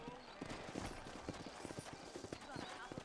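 Steady clip-clop of horse hooves walking at an easy pace in the video game Red Dead Redemption, with talking layered over the hoofbeats throughout.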